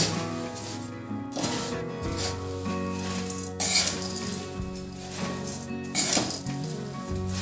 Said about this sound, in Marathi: गरम कढईत आपण शेकून घेऊ छान हे मुरमुरे म्हणजे छान कुरकुरीत होतील